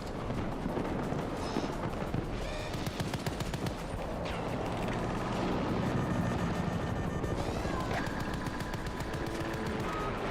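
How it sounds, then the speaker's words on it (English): In the Battlefield 2042 video game, a helicopter's chopping rotor throbs continuously under dense, rapid gunfire and explosions, loud and constant throughout. "Where's the chopper? That's what I'm waiting for."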